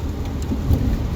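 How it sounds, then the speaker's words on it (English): Heavy rain pours down on an evening in Westchester County, New York, a dense, steady wash of noise with deep rumbling underneath, loud and close with no voices. "it's pouring rain here"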